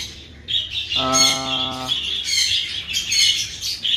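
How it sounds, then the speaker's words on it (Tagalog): Aging checkered breeder gamecock rooster making a short, harmonic call of about a second, close by amid busy chirping of other birds in the yard. "breeder number 3, ito isang cock na checkered"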